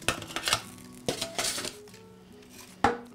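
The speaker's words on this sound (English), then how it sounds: "I'm gonna grab the potatoes out of the oven now." A pan of roasted potatoes comes out of the oven in a kitchen making Italian Easter spring lamb, with close metallic clanks and clinks of pan and utensils, a quieter stretch, then one sharp knock at the end.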